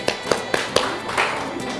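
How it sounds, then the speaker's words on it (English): Several sharp hand claps from workshop participants in a room, about four evenly spaced claps in quick succession followed by a softer smear of scattered claps, moderately loud and close. "Claps."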